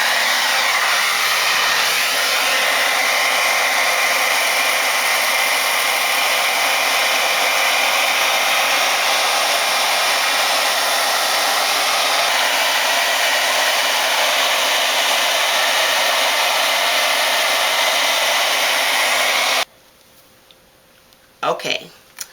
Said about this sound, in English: I'm going to go with the blow dryer.